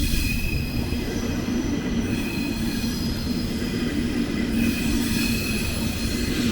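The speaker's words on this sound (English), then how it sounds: "now we have a regional train pulling out, quite long as well" A long regional train pulls out of München Hauptbahnhof, rolling steadily past at close range, with wheels rumbling and a high metallic squeal running throughout and no voices.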